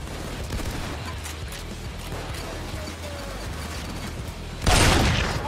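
A double-barrel shotgun fires rapidly like an automatic weapon in the heist shooter PayDay 2, low thudding reports rattling along under game noise before a loud close blast near the end.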